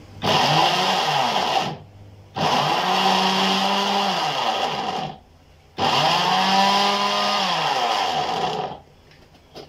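A blender whirs loudly in three long bursts, with short pauses between runs and the motor pitch shifting as it churns.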